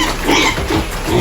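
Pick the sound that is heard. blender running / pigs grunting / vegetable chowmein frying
pigs grunting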